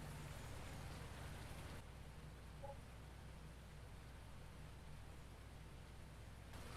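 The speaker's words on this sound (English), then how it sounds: "Rain!" Steady rain falls in the Farming Simulator 19 video game, a continuous soft hiss of drops at even, quiet level with no voices.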